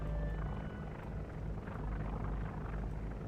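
A carrier-launched biplane in the naval strategy game Task Force Admiral, heard as a steady, loud droning rumble of propeller engine noise throughout, without speech.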